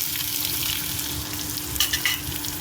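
Finely chopped onions and green chillies fry in hot oil for a brinjal and drumstick curry, a steady close sizzle with a few sharper stirring scrapes near the end.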